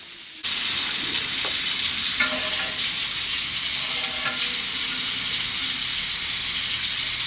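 Dishes being washed at home under a running tap: a loud, steady rush of water starting abruptly and continuing throughout, with faint clinks of utensils.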